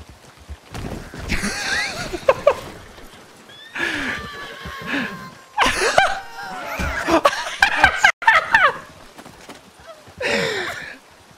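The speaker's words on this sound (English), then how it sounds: "Oh, that's someone's horse." Several loud horse whinnies and snorts in Red Dead Online, close by, interspersed with chuckling and hoof clops, with bursts of sound and short pauses between them.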